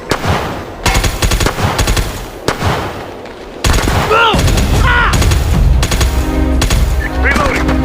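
Rapid bursts of automatic gunfire and shots from SOCOM: U.S. Navy SEALs Fireteam Bravo 3 crackle loudly in repeated volleys, with brief lulls between exchanges.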